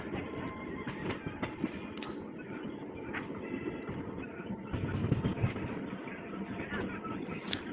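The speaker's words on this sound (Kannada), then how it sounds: "ಟ್ರೈನ್ ಹೋಗ್ತಾ ಏನಂದರೆ ಅಲ್ಲಲ್ಲಿ ಸ್ಲೋ ಆಗುತ್ತೆ, ಹಾಗೆ ಸ್ಪೀಡ್ ಇನ್ಕ್ರೀಸ್ ಮಾಡ್ಕೊಳುತ್ತೆ" A passenger train runs along the rails near a station in Bangalore, giving a steady rumbling roar with faint clattering and occasional higher squeals, fairly close and continuous throughout.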